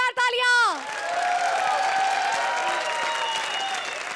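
A studio audience on a Hindi comedy show gives loud, steady applause with some cheering for Archana Puran Singh and Arbaaz Khan. A short descending musical sting opens the clip, and the clapping follows.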